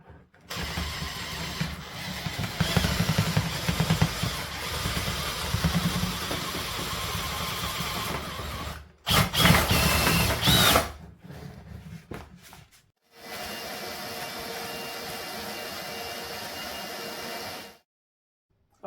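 A drill drives a Chimney Typhoon power brush spinning up a chimney, a loud steady whirring hum in long runs broken by brief pauses, with a harsher burst in the middle before a final steadier stretch stops abruptly.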